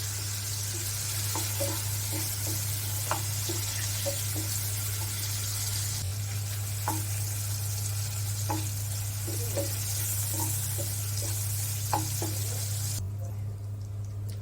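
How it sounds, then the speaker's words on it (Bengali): Shrimp frying in hot oil while being stirred, a steady close sizzle under a low constant hum, with scattered light knocks and scrapes of a utensil against the pan. "চিংড়িগুলো তেলের সাথে আমি ভাজবো ভালোভাবে।"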